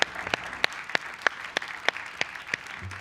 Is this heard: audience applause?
yes